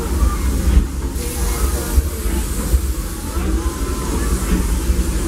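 Riding aboard the Disneyland Railroad behind steam locomotive Fred Gurley #3, a steady low rumble of rolling wheels and car noise carries on with soft hissing, and faint voices are heard beneath.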